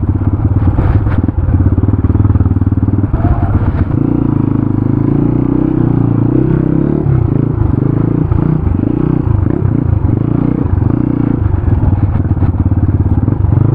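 Royal Enfield Bullet 350 and Crossfire 250 motorcycles riding off-road, their engines rumbling loud and steady throughout with uneven throttle surges and occasional clatter and thuds from the rough ground.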